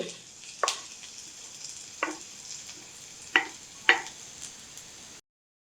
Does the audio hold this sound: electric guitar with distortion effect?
no